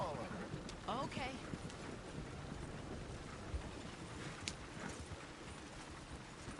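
Horse hooves clip-clop at a steady walking pace in Red Dead Redemption 2, under wind noise and ambient rumble, moderately distant.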